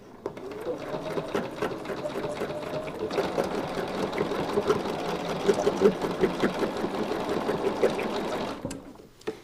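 A sewing machine stitches fabric for a folk heart chain, its steady rapid mechanical whir running close and continuous for most of the stretch before stopping near the end.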